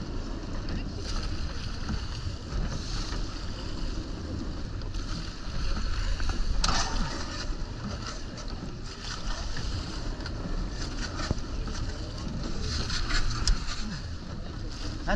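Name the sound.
racing rowing boat crew pulling through water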